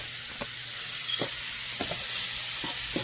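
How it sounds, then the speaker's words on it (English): Seasoned steak fries in a pan with a steady close sizzle, broken by a few light scrapes and taps of stirring, with no talking. "And now I'm going to add my steak to the pan."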